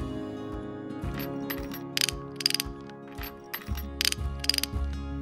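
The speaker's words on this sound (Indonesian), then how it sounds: "pasang kopra bagian atas dan bawah ke bambu menggunakan skrup dan obeng" A screwdriver driving screws to fix copra coconut shell parts to bamboo, ratcheting clicks in quick repeated bursts, close and clear, with no talking.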